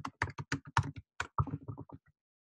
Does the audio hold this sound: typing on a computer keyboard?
yes